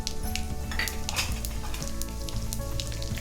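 Steady close sizzling of cumin seeds and urad dal frying in hot oil, with faint crackles and a few light stirring scrapes.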